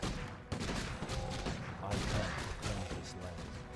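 Rapid volleys of gunfire from units in the Warcraft 3 video game crackle continuously amid battle noise, with brief unit voice lines mixed in.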